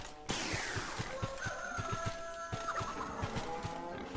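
Hen clucking in the Medievil Resurrection game, a run of short regular clucks about every quarter second over game music and ambient sound.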